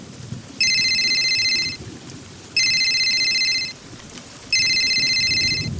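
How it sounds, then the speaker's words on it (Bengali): A telephone rings three times as a sound effect in a horror story, each electronic trill lasting about a second, set over a steady bed of rain-like noise. "একটা বিড়ি ধরিয়ে যেই টান দিতে যাব অমনি ফোনটা বেজে উঠল"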